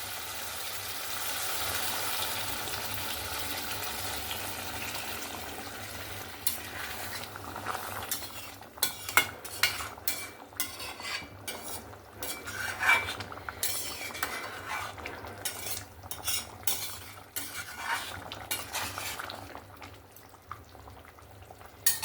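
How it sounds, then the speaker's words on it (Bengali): A spoon stirs mutton curry in a pot after hot water goes in, making repeated scraping and clinking strokes over a soft bubbling hiss, with a quieter simmer before the stirring starts. "এবার জল দিয়ে ভালো করে একটু নাড়াচাড়া করে দিয়েছি"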